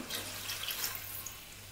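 Water pours steadily into a cooking pot to cover pieces of fish while preparing Tunisian mhamsa, a soft, continuous splashing trickle close by with a faint low hum underneath.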